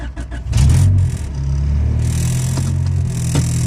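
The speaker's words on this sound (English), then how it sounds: "Let's see how she runs E85 cold start." A 2001 Honda Integra GSR with a B17 engine swap cold-starts on E85 fuel: brief cranking, then the engine catches with a loud rev and settles into a steady, close idle.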